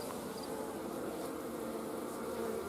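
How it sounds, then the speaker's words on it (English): A large swarm of bees flying close around, a dense, steady buzzing drone that fills the whole stretch with no talk over it. "there's no way I would stand this close to this many bees flying around"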